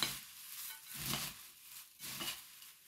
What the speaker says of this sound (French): Il ne faut pas avoir peur de bien mélanger.